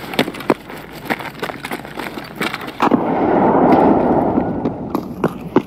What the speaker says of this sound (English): Oh, I just chucked nades.